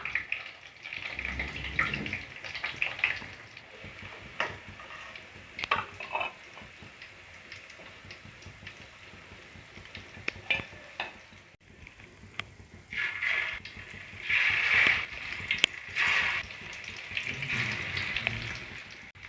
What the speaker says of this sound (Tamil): இந்த பக்கமும் நல்லா ஃப்ரை ஆகட்டும்